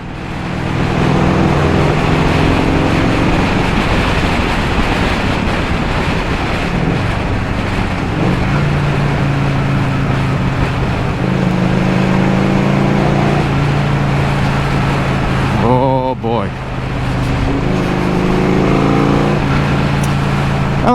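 A 1984 Harley Davidson Tour Glide motorcycle rides through a tunnel, its engine a loud steady drone with shifting pitch, echoing in the enclosed space, briefly dipping once near the end.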